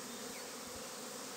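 Honey bees at a beehive, a dense continuous buzzing drone filling the space at steady loudness, close and unbroken with no voices.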